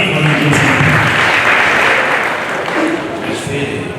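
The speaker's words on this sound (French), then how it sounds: "ça s'applaudit" An audience claps at a ceremony, dense and loud, filling the space evenly from start to finish with a slight easing toward the end, and scattered voices faintly beneath.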